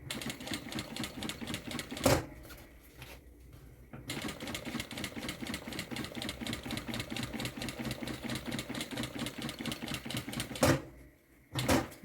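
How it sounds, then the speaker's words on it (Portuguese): A sewing machine stitches down the other side of a zipper in rapid, even mechanical clatter, pausing twice briefly before resuming the same steady rhythm. "Agora eu vou costurar o outro lado do meu zíper."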